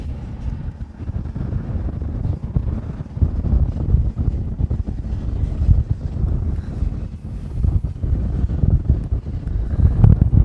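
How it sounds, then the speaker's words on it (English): Strong wind gusts buffet the microphone in a constant loud roar with rumbling low-end bursts, no speech, at Honolulu airport in Hawaii. "Wind is really picking up right now."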